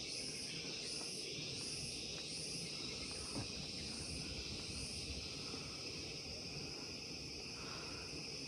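Cicadas buzz in a constant high chorus with pulsing waves, steady and moderately faint over a soft outdoor forest background on Penang Hill.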